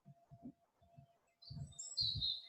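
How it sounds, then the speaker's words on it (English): A blackbird sings a few faint, high, fluting phrases during the dawn chorus, thin whistled notes over soft low thumps, heard from a distance with no voices. "It's a blackbird."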